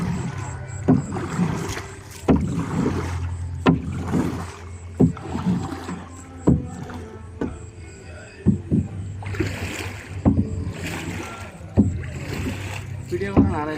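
A boat is rowed on the Padma River, with rhythmic knocking and splashing strokes repeating roughly every second or so, close and fairly loud, amid wind and outdoor background noise.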